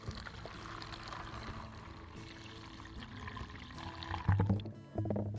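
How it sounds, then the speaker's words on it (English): Slightly soapy water pours into bee traps set on posts about 1.5 meters up in a thinned forest, a close, continuous splashing trickle that swells into a louder gush near the end. "fill them with slightly soapy water."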